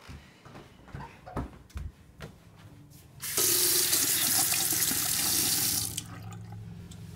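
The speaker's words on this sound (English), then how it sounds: "Just rinse them off with water." Tap water runs steadily into a sink to rinse off a pair of tweezers used in caring for a bearded dragon, a loud continuous splashing rush lasting a few seconds after some quieter handling clatter.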